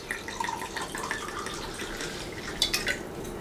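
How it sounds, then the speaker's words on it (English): Wine poured into a glass, a short, close liquid trickle and gurgle with light splashy highs and a faint glassy clink near the end, with no talking. "I'm just going to pour in some wine."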